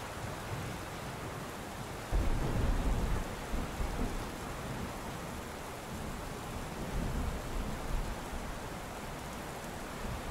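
Storm rain pouring steadily with thunder, a louder rumbling burst after about two seconds and another swell near seven seconds over constant downpour.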